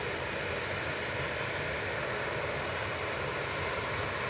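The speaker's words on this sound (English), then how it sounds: "The little Brussels Sprout, A319, heading off next" Airbus A319 departing Manchester Airport, a broad continuous jet roar at steady loudness, distant and unvarying, with no talk.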